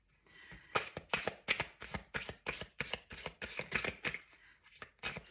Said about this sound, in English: I wanna draw an oracle card from my Lenormand fairy deck here.